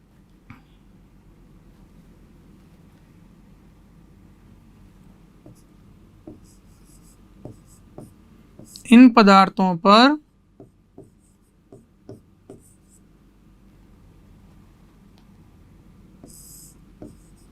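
Chalk or marker writing on a board during a Hindi-language class 12 surface chemistry lesson, heard as sparse faint taps and short scratchy strokes with a louder burst of voiced sound midway, in a quiet room.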